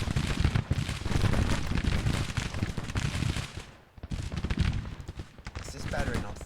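Artillery battery and massed musket fire in a Grand Tactician Civil War battle, 1861, a dense continuous roar of booming shots and crackling volleys, loud and steady with a brief lull midway.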